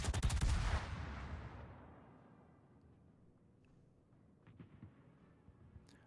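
Warship main-gun salvo in a naval video game, one heavy boom at the start that rolls away into a long fading rumble, followed by faint distant thuds.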